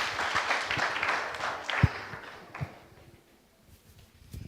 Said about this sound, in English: A big round of applause for Rwanda.